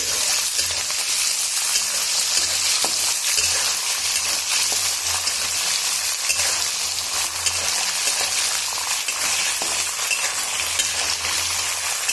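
Green peas frying in a pan for pulao give a loud, continuous sizzle with some stirring, close up and unbroken, with no voices.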